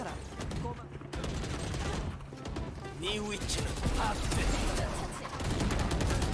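Gunfire in the video game Valorant: rapid bursts and fusillades of shots with weapon mechanism clatter, continuous and fairly loud throughout, mixed with game effects.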